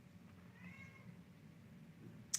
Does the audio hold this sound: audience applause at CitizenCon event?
no